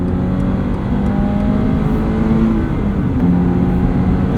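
A 2022 Subaru BRZ on Bridgestone Potenza RE-71RS tires accelerates around an entrance ramp, its engine a loud, steady drone with rising tones and heavy wind and road noise filling the cabin, no talk.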